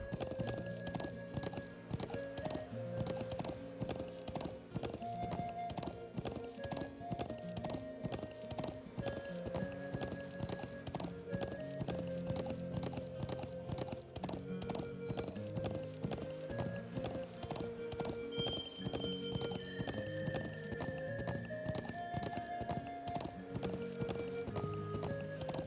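Horse hooves clip-clop at a steady walking pace while riding up slight inclines in the video game Trails of Cold Steel, the even rhythmic beats running under continuous game music, with a brief whinny.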